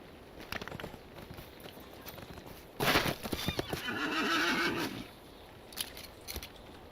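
A horse in the game Lord of the Rings Online whinnies loudly in a long, wavering neigh, with hoof clip-clops beating before and after it, close and clear with no talking.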